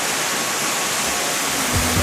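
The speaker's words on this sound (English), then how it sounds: "And here is the waterfall." A waterfall on the Arctic coast of Greenland sends out a steady, dense roar of rushing water, constant and fairly loud, with no voices over it.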